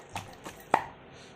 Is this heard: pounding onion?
yes